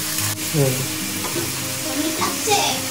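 Food frying in oil is stirred slowly in a pan during a basic home cooking lesson: a continuous sizzle broken by scraping, sloshing stir strokes, fairly close, with faint voices in the background.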